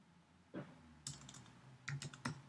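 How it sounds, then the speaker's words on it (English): Quiet typing on a computer keyboard: a few soft separate keystrokes and then a quick cluster of taps, close but faint, with no talking. "I'm gonna type in any name you want for your database."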